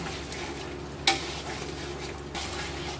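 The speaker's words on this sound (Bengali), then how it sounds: "মাংসটা আমি ভালো করে কষিয়ে নিচ্ছি।" Chicken meat stir-fried in masala in a full kadai, a close, steady sizzle broken by a sharp spoon scrape against the metal pan and a softer scrape near the end.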